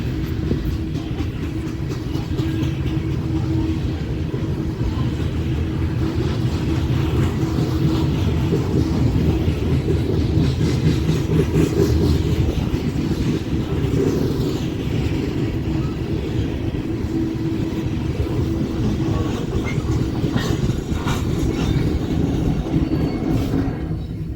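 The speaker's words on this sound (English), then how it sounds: "There goes our eastbound coal drag." An eastbound coal freight train passing, a long continuous rumble of heavy railcars rolling by at steady volume, fairly close, with no clear talk.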